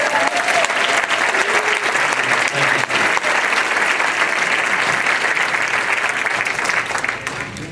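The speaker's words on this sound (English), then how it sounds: "I appreciate that applause" Rally crowd applauding steadily and loudly for the full length, dense clapping that thins slightly near the end, with a few faint voices mixed in.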